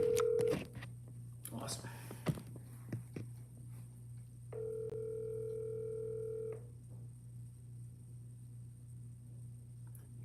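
A phone call is placed: a short dial tone, then a few dialing clicks and a steady two-second ringback tone over a constant hum, with someone speaking briefly around it.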